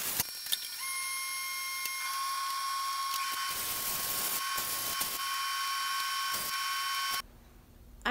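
A metal sheet is fed through a slip roller, a steady close mechanical whir with faint ticking and clicks running for about seven seconds before cutting off.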